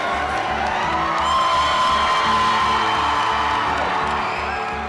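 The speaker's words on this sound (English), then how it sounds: "There were cheers and the moose clapped" A school crowd cheers and whoops loudly for a new moose mascot, a sustained roar of voices with scattered yells that swells and then eases off.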